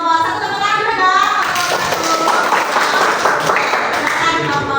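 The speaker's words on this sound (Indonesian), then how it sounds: "silakan untuk kelompok 1 tepuk tangan dulu dong" A classroom audience applauds a presenting group, with continuous mid-loud clapping and a few voices and a clear tonal sound running through the crowd noise.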